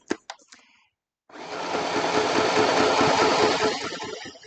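Sewing machine running steadily while stitching through a greeting card, a loud continuous mechanical whirr with rapid needle clatter after a few brief taps and a short pause.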